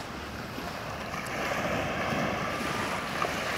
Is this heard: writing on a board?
no